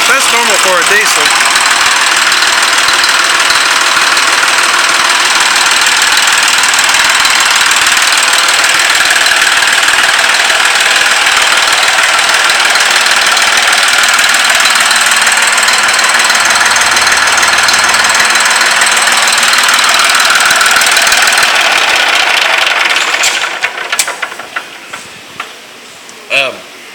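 An old Fordson Super Dexta diesel tractor engine runs loud and close with a steady knocking clatter for over twenty seconds, then winds down into quieter clunks.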